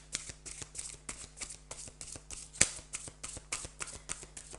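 Tarot cards shuffled by hand in quick, repeated riffling bursts, close and fairly quiet, with one sharper snap partway through and no talking.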